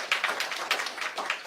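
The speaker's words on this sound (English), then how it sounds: "I don't normally get that type of applause" An audience at an Airbus event in Mobile celebrating the 100th U.S.-produced Delta A321 applauds in a brief burst of fairly close clapping.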